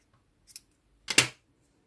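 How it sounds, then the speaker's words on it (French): Scissors snip through knitting yarn after a garter-stitch swatch, a faint double click followed by one louder, close crisp cut, alone with no talking. "Donc, je vais couper le fil."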